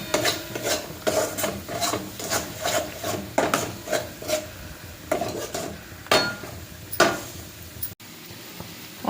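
A spoon scrapes and stirs onion-garlic masala, homemade spice mix, salt and turmeric in a pan, giving a steady run of close, rhythmic rasping strokes with metallic clinks and no voices.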